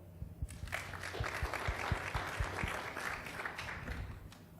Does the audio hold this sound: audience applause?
yes